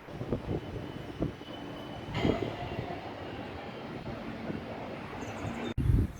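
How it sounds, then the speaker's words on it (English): A metro tram in Mauritius rumbles in on the rails with rhythmic wheel clicks and a faint metallic squeal, growing steadily louder as it nears; no voices. "Here comes our tram."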